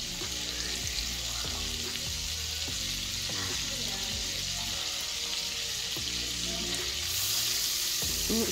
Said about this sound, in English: Stir it all around there, get all the nooks and crannies.